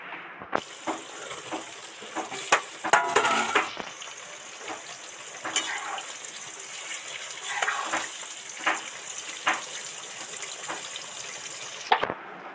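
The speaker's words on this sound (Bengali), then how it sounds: "আরো 5-7 মিনিটের মতো ঢাকা দিয়ে মানে ভাজতে দেবো" Sliced potatoes and pointed gourd fry under a lid in a pan, a steady soft sizzle and hiss with scattered sharp clicks and pops, briefly louder in the middle, then ending in a sudden crack.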